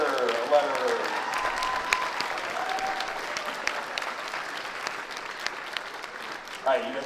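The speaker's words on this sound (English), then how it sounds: "let's give another round of applause to all of our junior letterers" A high school spring concert audience gives steady applause to students being recognised, a broad continuous clapping in an auditorium with a voice speaking over it and a few louder claps near the end.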